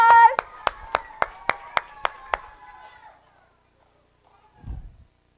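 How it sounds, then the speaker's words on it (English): Nine crisp, evenly spaced hand claps ring out at a church live stream, sounding over a sustained tonal hum that fades away, followed by a soft low thump after a pause. "give them a big round of applause"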